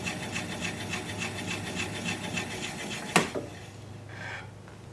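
A 3/8 inch swept-back bowl gouge cuts a cherry limb bowl on a wood lathe, a steady rhythmic rasping scrape broken by one sharp knock near the end, close and fairly quiet.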